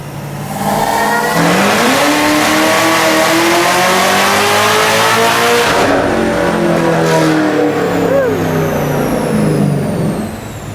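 A 1000whp Camaro engine revs hard and loud on a dyno, climbing through its range in a sustained roar, easing off midway, then winding up again before dropping away.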